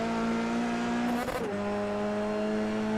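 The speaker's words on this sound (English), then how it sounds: "These cars sound so good, don't they, when they hit the limiter?" A Formula 3 car in a sim racing game at Oulton Park holds a steady high engine note bouncing off the rev limiter, with a brief shift-like break midway before the drone resumes, loud and continuous.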